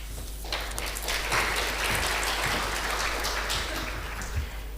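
A conference audience claps in a sustained, moderately loud burst, a steady rush of many hands over a low hum, rising quickly after a brief start and holding evenly.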